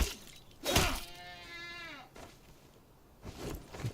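A goat in the video game Enshrouded gives one clear, wavering bleat lasting about a second, set between crunching, cracking impacts before and after it.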